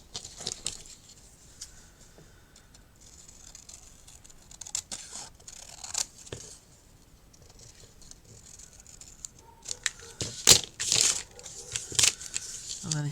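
Paper is cut and handled while a mini album is put together, giving scattered soft snips, rustles and taps that grow busier toward the end, with a voice talking between them.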